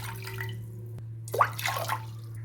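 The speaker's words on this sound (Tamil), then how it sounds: "நான் இப்போ 6 கிளாஸ் தண்ணி ஊற்ற போகிறேன்." Water poured into a pressure cooker while making black kavuni rice porridge, a short splashing pour starting partway through and sounding close and moderately loud over a steady low hum.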